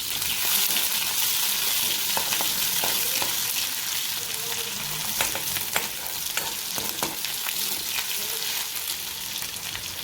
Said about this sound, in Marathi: कट केलेला कांदा आपण तेलामध्ये फ्राय करून घेऊया.